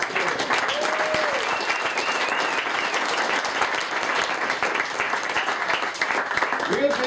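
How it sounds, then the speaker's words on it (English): An audience gives a sustained round of applause for a small cast of performers, dense and even throughout, with voices calling out over the clapping. "I'd like y'all to give a nice big round of applause for all our little cast here"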